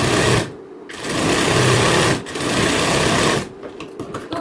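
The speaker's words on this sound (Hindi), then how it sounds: "फिर इस पर आपको सिलाई चलानी है।" A sewing machine stitching a blouse belt, running in loud, close bursts of rapid mechanical whirring, pausing twice briefly before the final run.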